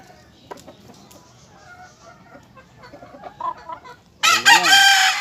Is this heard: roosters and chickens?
yes